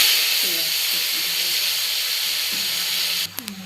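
Black cumin seeds spluttering in hot oil in a pan, a steady loud hiss with faint popping, ending in a brief abrupt clatter.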